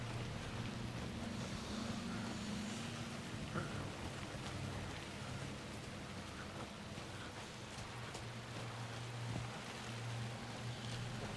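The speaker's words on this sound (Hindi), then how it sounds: "बारिश भी हो रही है भाई जंगल में।" Steady rain falling in a forest in the video game Alan Wake 2, a dense continuous hiss with a low hum beneath, even and moderately quiet, no voices.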